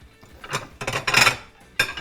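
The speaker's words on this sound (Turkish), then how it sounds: "Şimdi bir kere bir tabak alıp geleceğim." A plate fetched and set down in a home kitchen, a few close clinks and scraping knocks of dishware over about two seconds, ending in one sharp clatter.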